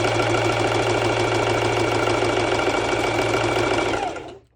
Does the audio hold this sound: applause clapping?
no